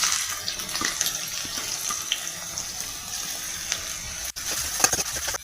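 Onions sizzle in hot oil in a pan with whole spices, cinnamon and cumin, for a chicken feet recipe; a steady bright hiss and crackle fills the whole stretch, with one brief clatter near the end.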